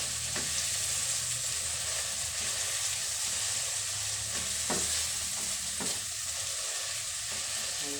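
Ripe tomatoes sautéing in a pan for chicken sinigang, a steady close sizzle of frying with a spoon stirring and scraping the pan now and then.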